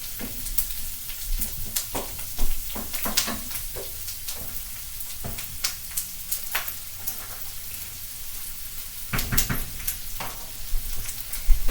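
Onions fry in bacon grease in a pan, a steady close sizzle broken by scattered crackles and pops, with occasional louder bursts as the pan is stirred.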